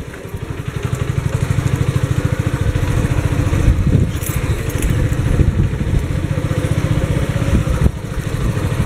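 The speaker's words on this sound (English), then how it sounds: "if you're on the back of my motorcycle" A motorcycle engine chugs with a steady, rapid low-pitched pulse while riding near Panagsama Beach in Moalboal, Philippines, loud and close with road rumble and no talking.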